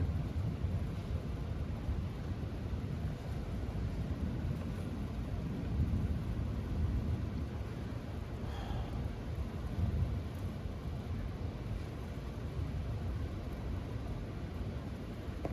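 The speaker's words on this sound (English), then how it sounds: "I think it's starting to rain." Rain with distant thunder during an isolated thunderstorm, a steady broadband hiss of rainfall holding at an even level throughout, with a low rumble swelling faintly beneath it and no talk.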